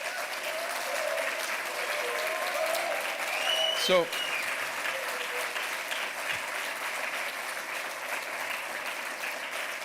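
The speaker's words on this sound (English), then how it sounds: "you will not applaud me as you have applauded him" Sustained applause from a large conference audience at a European environment network event, steady and dense throughout, with a brief voice heard near the start.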